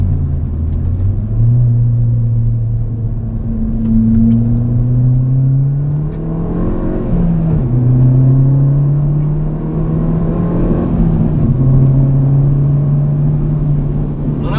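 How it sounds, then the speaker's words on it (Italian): Inside a Ford Fiesta ST Mk7, loud exhaust and engine roar fill the cabin, the tone climbing through revs and dropping at gear changes, then pulling up again. "lo scarico fa da padrone, l'insonorizzazione tiene per quello che tiene e dentro si viene veramente avvolti in un casino non da poco"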